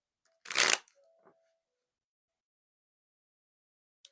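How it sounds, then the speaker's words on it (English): A single short riffle of tarot cards being shuffled, a crisp close burst followed by a couple of faint card taps, then near silence. "We're just doing a little shuffling the tarot cards."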